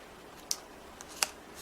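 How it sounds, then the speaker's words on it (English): Scissors snip foam tape hanging off the edges of a handmade hedgehog slider card, two or three crisp separate clicks, the second sharper, close by and otherwise quiet. "you can just take your scissors and kind of trim that off a little bit"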